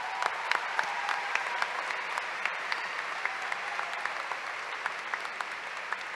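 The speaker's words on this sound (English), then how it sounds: "let's give them all a round of applause, if you wouldn't mind." An audience at a summer university commencement ceremony gives a long round of applause, steady crowd clapping with individual sharp claps standing out against the moderate, even wash of sound.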